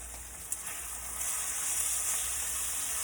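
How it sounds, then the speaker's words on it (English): Pork chops sizzle steadily in a hot pan just after being flipped, a loud continuous frying hiss with a brief crackle near the start, close and alone without talk. "we're going to flip our pork chops"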